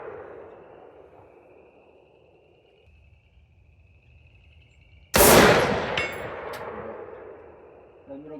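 A rifle fires 55-grain rounds from a 10.5-inch barrel at a steel gong target at distance; a single sharp, loud crack and metallic clang sounds, then rings and decays for several seconds outdoors.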